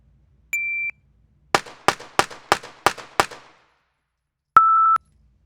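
A short electronic shot-timer beep is followed by six sharp pistol shots in quick, even succession, and then a second beep sounds after a pause.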